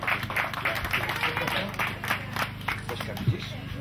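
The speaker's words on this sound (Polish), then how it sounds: "Zosiu, wielkie brawa." Scattered clapping from a small crowd at a sailing regatta award ceremony for the Optimist dinghy class, steady and moderately loud, with a voice speaking over it and a low hum underneath.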